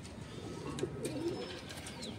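A Madrasi pigeon coos softly in a loft, low murmuring calls over a continuous background hum with faint distant bird chirps.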